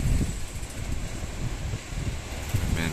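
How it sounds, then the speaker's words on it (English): A small AliExpress wind turbine spins in stormy conditions, giving a continuous rushing whoosh mixed with gusty wind buffeting close to the microphone. "you're just getting the turbine noise"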